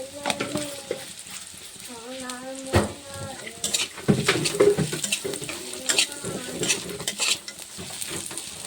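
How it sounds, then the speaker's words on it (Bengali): Spice masala frying in a pan while being stirred, for a goat meat curry with cashews and raisins: sizzling and scraping under scattered bird calls, with sharp utensil clicks and the sizzle growing busier partway through. "মশলাটা ভাজি আমি মশলা কিন্তু লাল লাল হয়ে গেছে"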